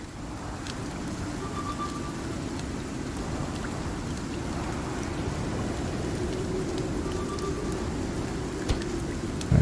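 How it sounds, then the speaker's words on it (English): Rain falls steadily in the survival video game Icarus, a soft, even hiss of drops close by with faint higher tones. It runs unbroken throughout with no talk. "Now it's started raining"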